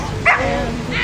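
A dog gives a single brief yip or bark at an outdoor dog show during a hoop-squeezing demonstration, a short sharp call over a low background murmur.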